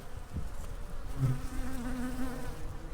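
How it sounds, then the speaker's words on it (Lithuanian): Honey bees buzzing around a hive during feeding and treatment, a dense, continuous drone of many insects at a fairly low level with no talking. "Matot, čia žinokit, mažuma bičių."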